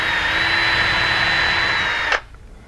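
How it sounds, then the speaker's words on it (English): A power drill with a 3/32 inch bit whines steadily at high speed for about two seconds while drilling into wood, then cuts off abruptly as it winds down. "drill out the center of these marks"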